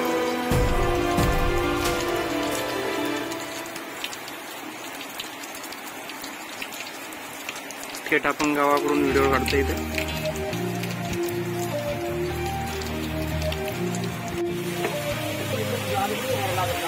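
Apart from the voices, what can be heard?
heavy rain falling in a village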